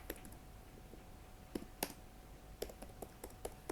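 Scattered keystrokes on a computer keyboard, close but faint, arriving in short irregular bursts over a noisy background hiss.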